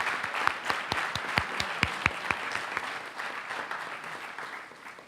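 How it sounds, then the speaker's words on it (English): Applause at a school board meeting honouring Scouts, with several sharp, distinct claps standing out near the front over a wider crowd's clapping, which tapers off toward the end. "Let's give another round of applause to all of our extraordinary Scouts in District 5"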